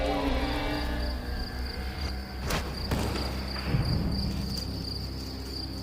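A field cricket chirps in a steady high trill, continuous and fairly close, with a few soft rustles and clicks underneath.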